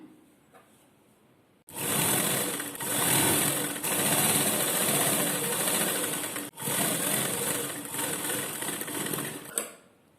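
A sewing machine stitches the lining of a blouse, whirring loudly and steadily after a quiet start, pausing briefly midway, then running on before a final click.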